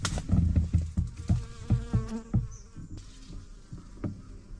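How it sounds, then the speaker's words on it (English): A honeybee buzzes at the entrance of a bait bucket set out for swarms, a steady insect drone with fluttering pulses that rises and fades close by, with no talking. "I just see a bee in the entrance of this one."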